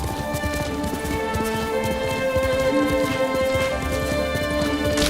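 Horse hooves pound in a steady, rapid galloping rhythm across rough terrain in the Ghost of Tsushima video game, loud and close, running continuously with no talk.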